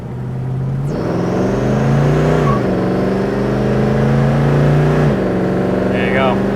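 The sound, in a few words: 1972 Chevrolet Chevelle SS engine accelerating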